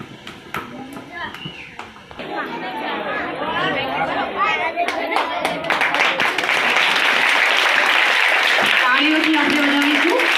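Applause and clapping at a primary school entrance celebration in a village, starting amid crowd chatter and children's voices, then swelling into sustained loud clapping from the gathered audience.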